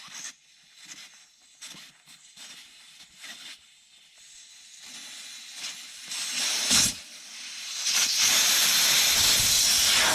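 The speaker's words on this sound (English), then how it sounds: "I'm just going to pop out the valve core, let the air out of the tire" Air hisses steadily out of a salt-crusted FJ Cruiser tire with its valve core pulled, the rushing sound close and growing louder and fuller toward the end after some intermittent handling noises.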